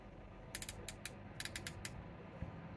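Quiet, crisp plastic clicks come from a coffee grinder's grind adjustment being turned, heard in two quick bursts of several close-up clicks with nothing else in the background.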